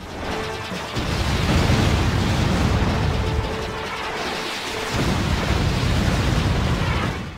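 A Cloudburst bomb detonates in the shoot-'em-up flying section of the video game Jade Empire, giving a loud, sustained, roaring blast that rumbles continuously for several seconds with a brief dip midway.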